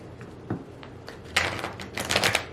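Tarot cards shuffled again by hand, a few light taps followed by a denser burst of crisp papery riffling, close and fairly quiet.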